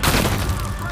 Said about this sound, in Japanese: グレネード